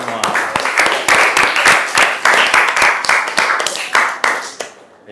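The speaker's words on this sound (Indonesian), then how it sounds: "Tepuk tangan untuk kita semua." A classroom group claps together, with dense rhythmic hand claps that stay loud and steady for several seconds before fading out at the end.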